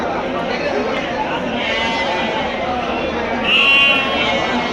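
Bandur sheep bleat on a farm, with several drawn-out calls heard close by and a person talking over them.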